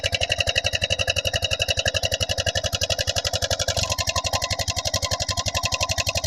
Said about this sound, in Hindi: ये हमारे गांव का ही इंजन है।